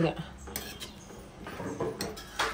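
Sweet potato rasam being stirred in a metal pot, with a spoon clinking and scraping against the sides in quick, irregular strokes, close and moderately loud.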